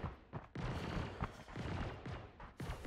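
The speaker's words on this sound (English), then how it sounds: "He is getting shot at by the turrets" Turret gunfire in the Star Citizen space game comes as dense, sustained bursts of rapid shots with short gaps, fairly loud and alone.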